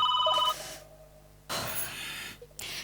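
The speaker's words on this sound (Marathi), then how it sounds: "फोनची रिंग. फोनची रिंग. फोनची रिंग." A telephone rings nearby with a short burst of bright electronic tones, followed by quieter gaps and further bursts of noise.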